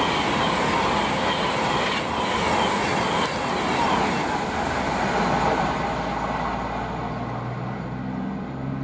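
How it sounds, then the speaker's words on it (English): A Class 390 electric train passes on the West Coast Main Line at Tamworth with a loud, continuous rushing roar and rolling wheel noise that gradually eases, and a faint brake or wheel squeal near the end. "we've got a Class 390 from Glasgow Central to London Euston"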